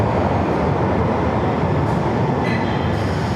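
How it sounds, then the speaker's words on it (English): A field recording of a passing train, loud steady rumble of wheels on rails with scattered metallic clicks and clangs and a faint squeal near the end. "within that recording, we hear all these nice clicks and clangs that come"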